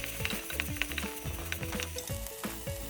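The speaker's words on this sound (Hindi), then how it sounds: "कटे हुए प्याज डाला है। अब उसे चला लूँगी। कटी हुई हरी मिर्च और अदरक का पेस्ट डाल के मिला लूँगी।" Chopped onions with green chili and ginger paste sizzling in oil as they are stirred, a dense steady frying hiss with rhythmic scraping of a spoon, close up and without voices.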